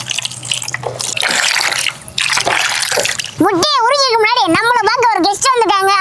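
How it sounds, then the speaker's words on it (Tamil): Hot water is poured over boiled eggs to loosen their shells, a loud splashing gush in bursts for about three seconds, then a person speaks. "தண்ணி மேலே ஊற்றிக்கலாங்க அப்போதான் முட்டை உரிக்கிறதுக்கு நல்லா ஈஸியாக இருக்கும்"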